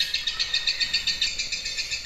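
A female lovebird gives a rapid, rhythmic string of high chirps, about seven per second and steady in loudness, close to the microphone with no talking.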